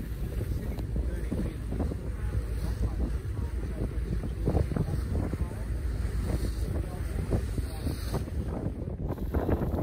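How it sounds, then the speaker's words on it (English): Blustery wind on Sydney Harbour during 18-footer sailing races, gusting hard against the microphone in a loud, continuous roar with rising and falling bursts over the water. "It was a blustery day on Sydney Harbour"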